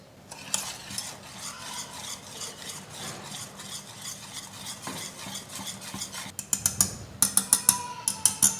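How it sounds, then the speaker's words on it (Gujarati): Semolina dhokla batter being stirred with buttermilk for instant corn-spinach dhokla, a steady scraping swish of spoon in a bowl, ending in sharper, louder clinks and taps against the side. "આ રીતે છાશ થોડી થોડી નાખતા બેટર તૈયાર કરી લઈએ"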